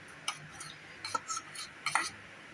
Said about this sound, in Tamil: இந்த கோதுமை மாவை நெய்யில் வறுத்துக்குவோம்